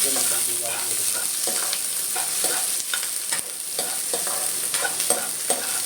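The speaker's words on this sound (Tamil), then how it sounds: "வெங்காயம் போட்டு கொஞ்சம் நல்லா அது மறுபடியும் ப்ரௌன் கலரில் வர அளவுக்கு நம்ம வதக்கி எடுப்போம்." Onions sauté in hot oil for a bachelor-style egg masala, browning under a constant bright sizzle. A spoon stirs and scrapes them in repeated, regular strokes close by.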